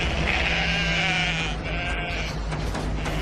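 Sheep bleating on the Yorkshire moors in a horror audio drama, several wavering bleats overlapping over a steady low rumble of wind and ambience, with no voices.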